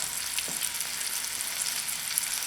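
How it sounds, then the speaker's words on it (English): Zucchini sautéing in olive oil in a pan, a steady bright sizzle with faint stirring scrapes, close and continuous with no voices. "I have to get these sauteed as well so they're nice and soft like our first batch."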